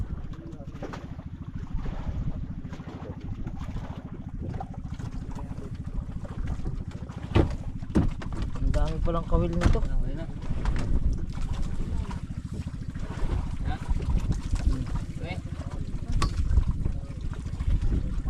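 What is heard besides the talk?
engine of a large boat running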